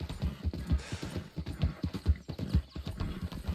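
Horse hooves clip-clopping at a gallop in the video game Red Dead Redemption (RedM), a fast uneven run of close, thudding beats with a brief whinny, no talking over it.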